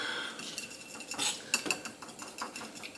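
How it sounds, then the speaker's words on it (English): Chopsticks whisking in a bowl, a quick series of light clicks and taps against the bowl's side, soft and close, with brief ringing knocks in between. "I'm just whisking it with some chopsticks."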